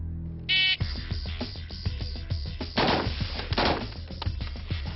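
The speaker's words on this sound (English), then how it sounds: "Shooting a full auto M16 is an exhilarating rush." Full-auto M16 rifle fire on an outdoor shooting range: a long run of rapid, sharp cracks, loud and close, with a brief buzzer tone at the start and a few short bursts carrying through.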